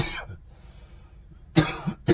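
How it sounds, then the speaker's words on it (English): A person coughs in a tiny 4x8 cabin camper: one cough at the start, then a quiet pause, then two more sharp, close coughs near the end. "Sorry about the coughing, dude."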